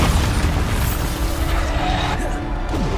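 Bombarda blasting spell explosions in Hogwarts Legacy, a loud dense booming burst that rolls on for several seconds, with layered crashing debris and a sweeping whoosh near the end.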